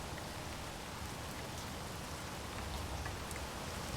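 Steady rainfall in Space Engineers, a soft, even hiss of drops on surfaces with faint scattered patters, continuous and fairly quiet with no voices over it.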